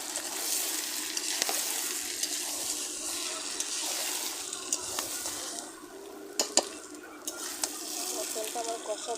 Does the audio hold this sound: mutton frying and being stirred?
yes